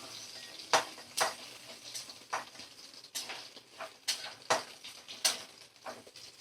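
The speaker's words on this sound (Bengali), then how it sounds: "তো পেঁয়াজ দিয়ে একটু ভালো করে আমি নাড়াচাড়া করে নেব 2 থেকে 3 মিনিট" Chopped onion is stirred in a pan over a low flame for a rui fish curry. Soft, irregular scrapes and taps of the spoon sound against a quiet, faint sizzle.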